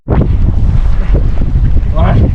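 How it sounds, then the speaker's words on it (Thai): Strong wind blows loudly and steadily across a small squid-fishing boat at sea off Samae San in stormy weather, with broadband rushing gusts buffeting the microphone throughout. "ลมมาค่อนข้างแรงนะเห็นนะฮะลมแรงมากตอนนี้"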